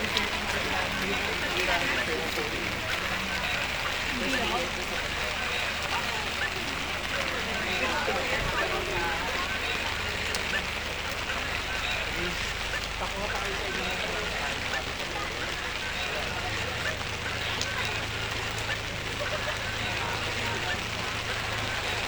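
Steady rain pours down on an outdoor Santa Maria, Bulacan street during a Sagala procession, a dense even hiss that runs throughout with voices and crowd noise mixed in underneath.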